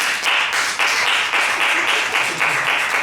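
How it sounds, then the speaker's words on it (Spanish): An audience at a film-forum book presentation breaks into sustained, dense applause, many hands clapping together in a steady, fairly loud wash that holds without pause throughout. "Y bueno, ya sin más, pues un fuerte aplauso para Alexander Zárate."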